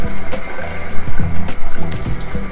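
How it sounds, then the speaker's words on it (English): Cold tap water running and splashing while a blender is rinsed in a sink, close and fairly loud with gurgling surges and knocks, no talk. "when cleaning the blender, I highly suggest using cold water"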